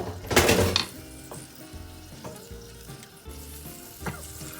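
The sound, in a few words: spaghetti clam sauce coming back to a boil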